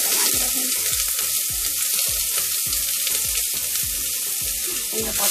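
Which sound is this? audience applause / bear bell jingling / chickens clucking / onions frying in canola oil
onions frying in canola oil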